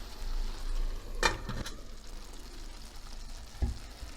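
Butter melting in a covered pan for a spinach and egg breakfast dish gives a low, steady sizzle and crackle, with a brief louder burst of spatter near the middle and a soft knock later.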